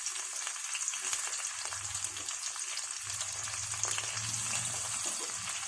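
Green chillies and curry leaves fry in hot oil in a pan, a soft, steady sizzle with faint crackles and occasional light stirring, fairly quiet and without talk.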